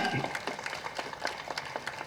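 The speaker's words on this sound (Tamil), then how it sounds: "மகிழ்ச்சியாக கைத்தட்டுங்கள்" Audience at a Tamil political speech applauds with scattered, moderate clapping that carries on steadily for a couple of seconds, slightly distant in a large gathering.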